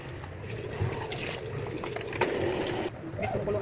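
Fresh coconut milk is poured into a cooking pot for ginataang gulay, a vegetable dish. It makes a close, steady splashing and trickling for several seconds, with a voice faintly present in the background.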